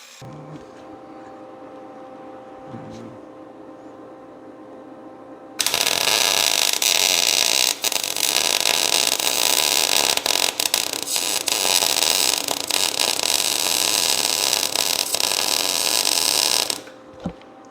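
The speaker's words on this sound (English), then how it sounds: "So I'm going to move that strap and we'll grind this out" An angle grinder grinding out a crack in a metal mower deck, a loud continuous harsh whine lasting about eleven seconds after a quieter start, then cutting off abruptly.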